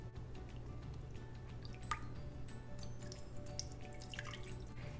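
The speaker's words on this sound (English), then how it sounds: "the first thing we are going to add is a half a cup of beef broth" Beef broth poured into an Instant Pot, a soft liquid trickle and drip with a faint splashy sparkle, steady and close for several seconds with no talking.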